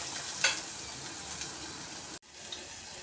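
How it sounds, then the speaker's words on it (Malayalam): Onions and curry leaves fry in a pan for a Kerala-style anchovy chilli curry, giving a steady close sizzle with a brief stir near the start and a short break before the frying resumes. "സവാളയും കറിവേപ്പിലയും നല്ലവണ്ണം മൂപ്പിച്ചെടുക്കാം."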